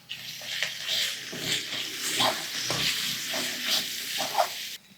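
Chicken pieces frying in a pan with ginger paste, red chilli powder and turmeric, stirred with repeated scraping strokes over a continuous close sizzle.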